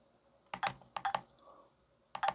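Keys pressed on a KCP-P4100Q wireless card terminal: several quick plastic clicks in two close pairs followed by a final pair, crisp and near, with no talk over them.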